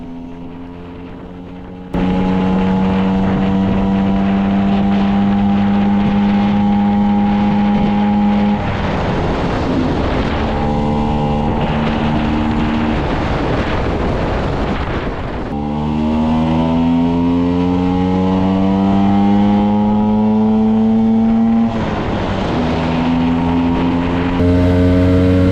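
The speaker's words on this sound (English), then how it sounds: "here I am running through all 4 gears to make sure the transmission is okay" Serveta Jet 200 vintage Italian two-stroke scooter revving up through four gears, loud and close, each climb in pitch broken by a brief dip at the shift.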